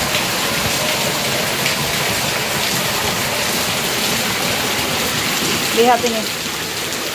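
Heavy rain pours steadily with rushing floodwater from rice fields, a dense, loud, continuous hiss throughout, with a brief voice speaking over it near the end.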